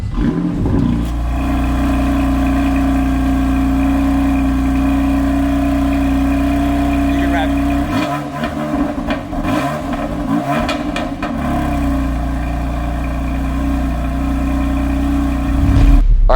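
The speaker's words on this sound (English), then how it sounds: "let's start up this M Performance exhaust and see what it sounds like" A BMW M4 Ultimate package with its 3-liter turbocharged six-cylinder and M Performance exhaust fires up and holds a loud, steady idle, then blips through a burst of sharp revs before settling back to idle and revving again at the end.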